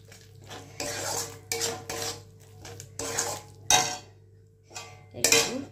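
Spice paste for a Bengali dish stir-fried in a pan, with loud bursts of a metal spoon scraping and clanking against the pan, separated by brief pauses and a low hum underneath.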